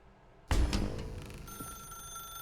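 A telephone in The Stanley Parable gives one sharp bell ring that cuts in suddenly and rings on, decaying into a lingering metallic tone, close and clear with no voices.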